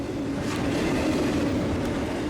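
A high-priority BNSF eastbound freight train rolls through Fullerton, California, with a loud, steady rumble and roar of railcars passing close by.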